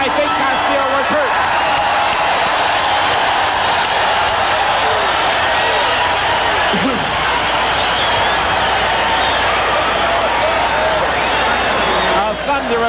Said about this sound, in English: A thunderous ovation from this crowd